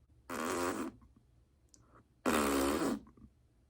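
Two loud, dry, echoey imitated farts made by a person's voice, each lasting about half a second, separated by a pause, close and alone with no talk.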